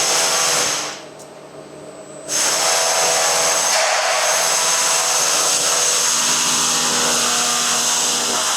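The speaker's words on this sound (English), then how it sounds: "I'm just using the Milwaukee heat gun just while the plug-in one is in use" A Milwaukee heat gun blows hot air over a cable lug on a 120mm² cable, a loud close fan roar that dips briefly and then resumes at full strength.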